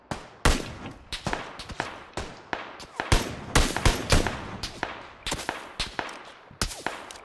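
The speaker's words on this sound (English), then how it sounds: "He's shooting at me from outside the gate." Gunfire in the battle royale game PlayerUnknown's Battlegrounds: a long run of sharp, close shots at an irregular pace, some single cracks and some quick doubles, with no voices.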